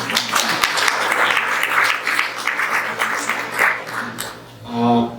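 Audience applause for Cassandra at an anti-racism forum in Saint John, brisk clapping from a room of people that rolls on steadily, then thins out near the end as a short burst of tonal sound closes the clip.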